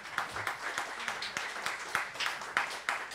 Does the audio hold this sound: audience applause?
yes